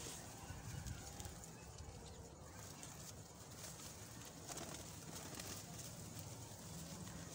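A flock of healthy, active pet pigeons, part of a group of 29 birds, coos softly and continuously at a distance within a steady, hissing background, with faint murmuring that may include voices.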